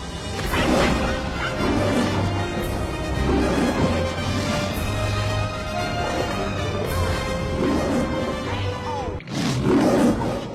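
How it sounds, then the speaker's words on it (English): A loud, sustained roar of a big cat fills the clip amid dense rumbling effects and a sudden crash near the end. "let me show you a well-known roar used for lions"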